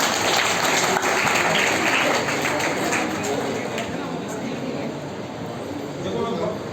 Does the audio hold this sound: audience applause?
yes